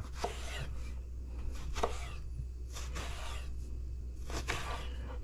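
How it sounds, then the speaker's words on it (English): A knife chops scooped-out eggplant flesh on a board, giving a few separate cutting strokes over a steady low background hum, close and moderately loud. "I'll just proceed to cutting up the meat, the eggplant meat that I scooped out of there"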